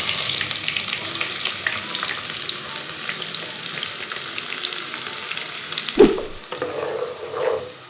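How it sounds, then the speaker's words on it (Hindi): Whole spices fry in hot oil in a pan with a steady crackling hiss, then a brief clatter and louder splutter near the end; no talking. "थोड़ा सा इनको फ्राई करेंगे खुशबू आने तक।"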